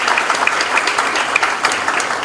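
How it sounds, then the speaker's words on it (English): An indoor audience claps in a round of applause welcoming an ambassador as speaker, a dense, steady burst of many hands, close and loud, without speech. "May I request a round of applause"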